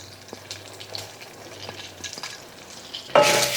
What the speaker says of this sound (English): I'm going to give everything a nice toast, put some color on that rice and that pasta.